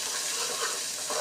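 Coriander chutney ingredients sauté in hot oil, a steady close sizzle and crackle with soft stirring, no voices.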